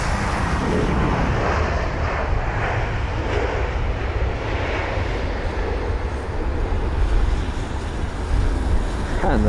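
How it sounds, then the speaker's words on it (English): A British Airways A320 airliner lands at London Heathrow in gusty wind, with a loud continuous jet roar close by that swells slightly near the end. "That was the BA320 doing an amazing job with the touchdown."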